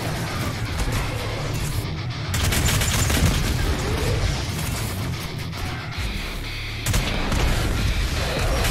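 A volley of micro missiles fired in Doom Eternal, a dense, continuous barrage of explosive booms and gunfire-like bursts that stays loud and layered across the whole stretch, with no talking over it.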